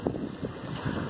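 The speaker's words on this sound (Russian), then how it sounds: "Очередная прогулка по берегу океана Атлантического" Wind gusting over the Atlantic shore of the English coast by the Solent strait, with a soft rush of surf; a steady, fairly faint breathy roar with brief low buffets, no voices.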